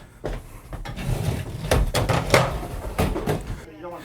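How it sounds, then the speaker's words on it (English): Wooden cabinet drawers slide out and lift free in a series of knocks and scrapes, close by, with a voice speaking over part of it. "pull them out, lift them up, and pop them right out"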